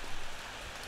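Steady rain in the horror video game Ao Oni, a dense even hiss of falling drops with no distinct pattering, holding level and fairly faint for under a second.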